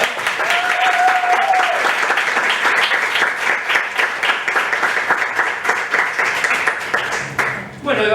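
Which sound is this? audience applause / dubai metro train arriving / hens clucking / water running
audience applause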